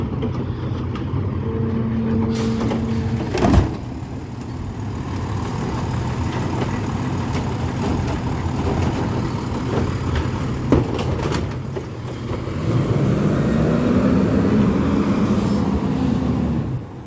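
A Heil Rapid Rail garbage truck rumbles steadily nearby at a low engine drone, with brief hissing air-brake releases and a rising engine note near the end, outdoors in a residential neighborhood with no speech.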